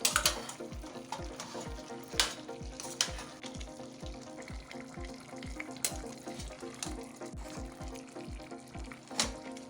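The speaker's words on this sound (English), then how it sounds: "So it is time to stir." Yam and plantain porridge being stirred in a pot, with repeated soft scraping strokes at a steady rhythm over a constant simmering bubble, moderately close and fairly quiet, with no voices.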